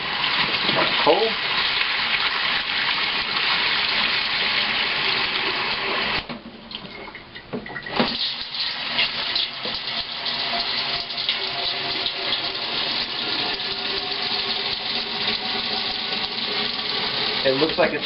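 Cold tap water runs in a steady, loud rushing stream into a Cornelius keg being prepared for home brewing, briefly cutting off and dropping away midway before pouring on again, with no talking.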